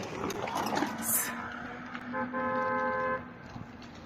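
An easy bike electric rickshaw passes close by on a street, with a steady electronic tone and a horn-like beep over traffic noise and a busy outdoor background.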